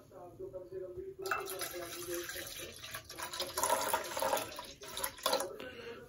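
Milk and water being poured into a pot to make tea, a steady liquid splash and trickle that runs for several seconds in a home kitchen, with faint talk underneath.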